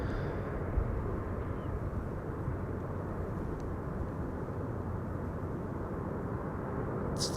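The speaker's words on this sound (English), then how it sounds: "Beautiful sound when the airplane passes you by." Boeing 777-300 airliner passing close on arrival at Amsterdam Schiphol Airport, a steady broadband engine roar and rushing air sustained loudly through the whole stretch with no talk.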